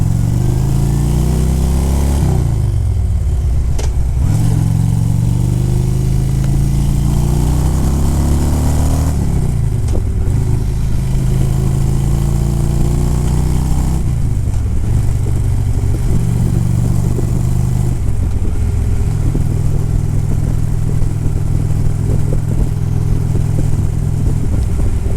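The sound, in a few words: motorcycle engine running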